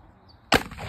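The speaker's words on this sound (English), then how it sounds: "We're gonna hit it with a 1 ounce 12 gauge slug." A 1 ounce 12 gauge shotgun slug strikes an armor plate: after a quiet moment comes a single loud, sharp bang with a brief ringing decay.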